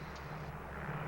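Steady airplane engine drone inside the cabin of a 1950s passenger plane, a continuous low hum held at an even level throughout.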